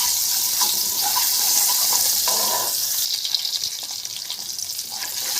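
Garlic frying in oil in a pan, cooking until it turns golden yellow for a liver, kidney and heart dish, gives a steady close crackling sizzle throughout, with a few soft clinks toward the end.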